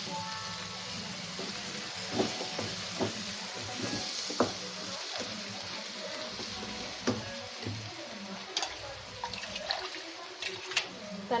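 Water poured into a cooking pan of curry just after a ground spice paste goes in, giving a steady, fairly loud rushing and sizzling wash with small splashes throughout.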